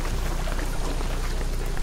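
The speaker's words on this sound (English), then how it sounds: "What I'm telling you is the rain is gonna flood me." Rain falls in Shadow of the Tomb Raider, a dense, steady hiss of pouring water that stays loud and even throughout, with no talk.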